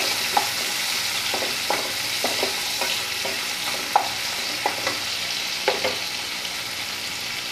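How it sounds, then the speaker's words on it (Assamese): Onions fry in a pan while being browned, a steady sizzle broken by regular scraping strokes of a spatula, close up and without speech. "আৰু পিঁয়াজখিনি ৰংচোৱা হোৱালৈকে মই ৰাখি দিম এনেকৈ"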